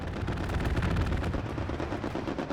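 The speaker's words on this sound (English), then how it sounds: "Oh, there's another strafing run being called in right now as well." A strafing run in a video game match on the Hill 400 map: a loud, continuous burst of rapid gunfire with heavy booming impacts that rolls on without pause, with no talk.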